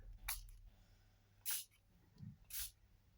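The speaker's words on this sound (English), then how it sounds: "I'm just going to spray." Three short hissing bursts from a spray bottle spraying water onto paper, evenly spaced about a second apart, close and quiet with soft handling noise between them.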